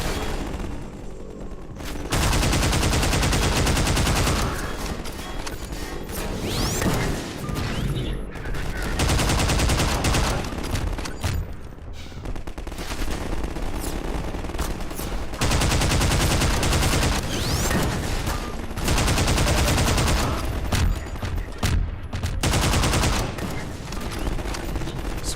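Plasma rifle firing in Half-Life 2, loud sustained bursts of rapid automatic fire in long stretches separated by brief pauses, with faint talk underneath.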